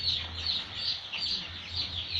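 Day-old broiler chicks at a poultry farm give a steady stream of high, repeated peeping chirps with a faint low hum underneath, a few birds calling continuously with no talk.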